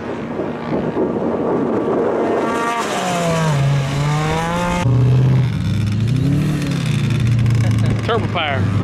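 An off-road vehicle with a turbocharged engine revs hard at the Silver Lake sand dunes, the motor climbing and dropping in pitch through loud bursts, mixed with wind buffeting and some voices.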